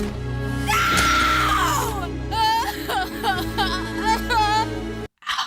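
An animated character from The Dragon Prince screams loudly and then breaks into sobbing, wavering cries, followed by a short pause and a final brief outburst.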